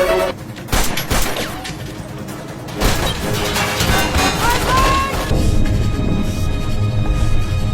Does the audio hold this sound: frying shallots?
no